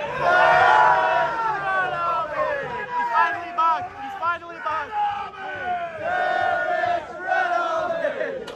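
A football crowd at Highbury chants and roars loudly in unison, with rising and falling sung phrases and shouts echoing across the stands.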